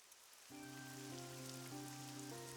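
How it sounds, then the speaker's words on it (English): Luminescent rain falls in the video game AI: The Somnium Files, a soft, steady patter that begins after a short quiet moment and continues beneath sustained musical tones. "Oh, it's raining. It's raining. Oh, but it's like luminescent rain."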